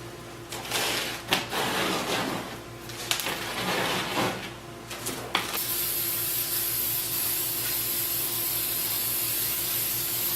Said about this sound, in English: I think I'm going to spray this just to see if it will hold it in place.